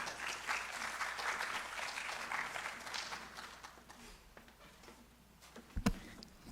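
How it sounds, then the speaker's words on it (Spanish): Audience applause welcoming two academic speakers at a lecture event, steady broadband clapping that fades out, followed by a few close, sharper handling knocks near the end. "un fuerte aplauso para ellos y ellas"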